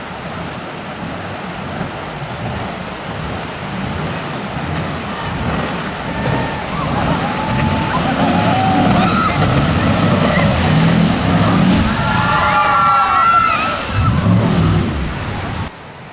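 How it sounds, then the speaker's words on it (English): Jet boats race through the Shotover River Gorge, a loud engine roar rising and revving over rushing water, with voices and crowd chatter mixed in. "boat ride is a 15-kilometre adrenaline-filled race through the Shotover River Gorge"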